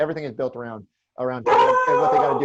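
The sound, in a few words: dog barking and howling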